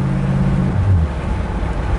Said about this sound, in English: Dual exhaust, good sound.